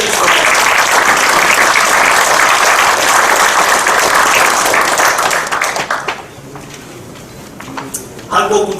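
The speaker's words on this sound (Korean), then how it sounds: "축하의 박수 드렸습니다." Loud, dense applause fills a hall at a Democratic Party farmers' and fishers' rally in celebration, then drops away after about six seconds, leaving quieter room sound and a voice.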